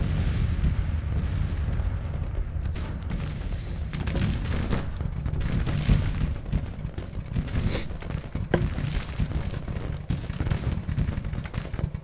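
Artillery fire in the Civil War strategy game Grand Tactician: Civil War, with continuous rumbling cannon booms and crackling gunfire layered densely over a steady loud battle din, no voices.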